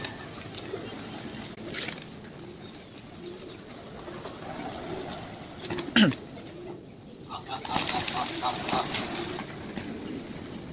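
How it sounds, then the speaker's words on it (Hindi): Pigeons in a loft holding over 300 birds coo softly and intermittently against a faint, busy background, with a brief louder clatter partway through. "ये 320 कबूतर है, उसके ऊपर ही रहते हैं"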